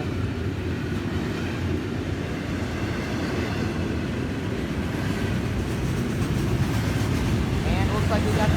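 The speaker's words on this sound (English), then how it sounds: "this is the long train 101 today. A little longer than usual." A long freight train, number 101, rolls steadily past on a rainy day, a continuous loud rumble of wheels and cars with faint rhythmic clatter throughout.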